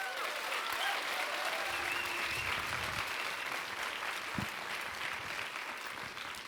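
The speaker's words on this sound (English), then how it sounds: "Please give a warm round of applause to these wonderful people who will guide us through the night," An audience applauds at the IFFR 2020 awards ceremony, sustained even clapping from a large crowd that slowly tapers, heard without speech.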